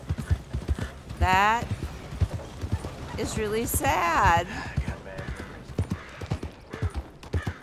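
Horse hooves clip-clop in a steady rhythm in Red Dead Redemption 2, the horse dirty from riding, while someone talks over the footfalls throughout.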